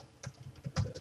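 Brief burst of typing on a computer keyboard, a few soft close key clicks in quick succession.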